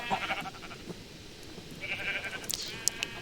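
Sheep bleating in a farming video game with a habitat and item sorter, several short bleats scattered over a soft ambient background with no talking.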